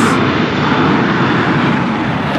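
Aircraft engine drone from airplanes and helicopters flying over Las Vegas, a steady loud roar filling the whole clip with no talk over it.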